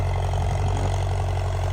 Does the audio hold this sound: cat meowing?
no